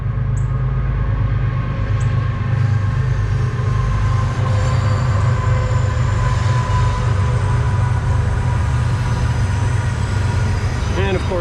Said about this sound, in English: we got a railroad track right behind the house, so might be a little on the loud side